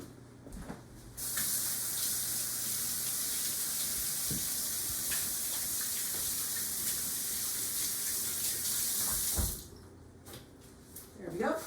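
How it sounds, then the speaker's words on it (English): Water from a kitchen tap runs in a sink for several seconds while hands are rinsed, a steady close hiss that starts and stops abruptly, with faint handling sounds around it. "I'm gonna give my hands a really quick rinse"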